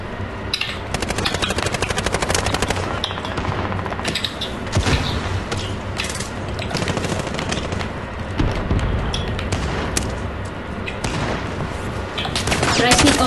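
Dense, continuous automatic gunfire from the Warzone video game rattles loudly for the whole stretch, with rapid bursts and explosive pops layered over one another and players talking intermittently underneath.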